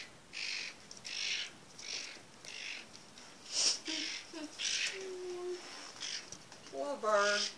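A small bird chirps and tweets in a run of short, bright bursts close by, with a few lower squawky calls near the end.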